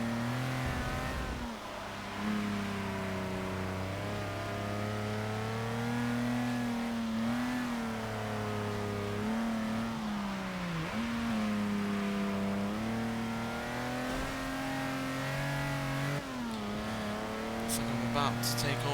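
Classic road-racing sports car in Forza Motorsport 6, sliding sideways on a wet track, its engine droning and swooping in pitch through steady throttle changes, loud and continuous with faint tire noise.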